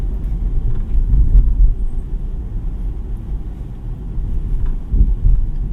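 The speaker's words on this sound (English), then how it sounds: "Engine noise is okay. It's not as, intrusive as I thought it would be." A 2024 BMW 318i's engine under way, heard from inside as a steady low rumble mixed with road and wind noise, moderate and unbroken with no talk.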